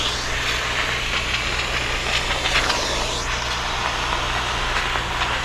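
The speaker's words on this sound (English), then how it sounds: "I'm holding on the button And here we go, steaming it out" A handheld steam cleaner releases a steady, close hiss of steam while wrinkles are steamed out of fabric, continuous and loud with a faint low hum beneath and no talking.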